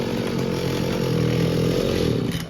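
A small two-stroke Mitsubishi TL231 brush cutter engine runs steadily at a loud, buzzing idle, a rough continuous drone close by with no voices.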